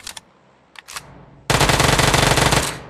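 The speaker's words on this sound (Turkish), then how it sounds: "Uzi ile yok ettim arkadaşlar" Rapid sustained automatic fire from an Uzi submachine gun in a video game, a long loud burst after a few scattered single shots, with no talking.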